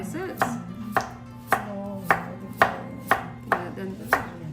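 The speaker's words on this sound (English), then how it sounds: "like we cut diagonal slices" A knife chops carrots into diagonal slices on a cutting board in a cooking class, giving about eight crisp, evenly spaced thuds, close and clear, with faint voices murmuring in the background.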